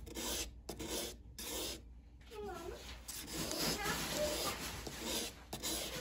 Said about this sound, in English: So I'm just gonna keep sharpening on this side.